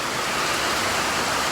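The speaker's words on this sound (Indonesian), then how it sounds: "Sekarang hujan ya." Rain falls steadily outdoors, a dense even hiss of drops filling the scene at a constant loud level with no pauses.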